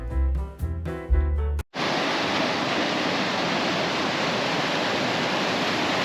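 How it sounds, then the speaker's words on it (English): A river in the Pacific Northwest rushing at the stretch where salmon jump, a dense, continuous roar of fast water heard close by after a short burst of music cuts off. "Here's the part of the river where the salmon jump up."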